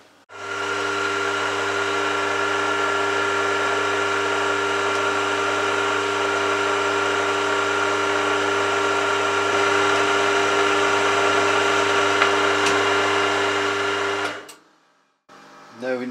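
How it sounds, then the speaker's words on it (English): A centre drill, then a drill bit, cuts a hole in metal on a machine, likely a lathe or mill, while making a die holder. The motor whirs steadily and loud with a strong tonal hum for about fourteen seconds, then stops and runs down. "centre drill, and drill a hole"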